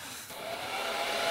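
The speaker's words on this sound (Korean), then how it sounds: "드라이기를 갖다 줬네 이 멍청이가" A hair dryer blows steadily and loudly, its broad airy whoosh swelling slightly after a brief dip near the start, with no voices over it.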